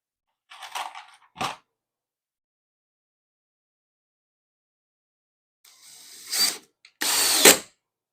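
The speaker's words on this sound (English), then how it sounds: "You hear that clutch? That clutched out on me." Power drill clutch slipping while driving a screw, heard as short ratcheting bursts: two brief clicks early, then a longer pair of louder grinding rattles after a pause.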